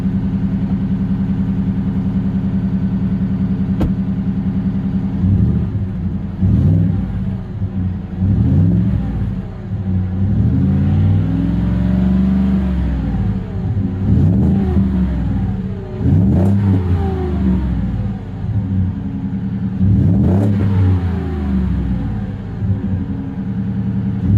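A Ford F-150 5.0 V8 truck engine idles with a deep exhaust rumble through an aftermarket exhaust system, then is revved repeatedly, each rev rising and falling back to a throaty idle.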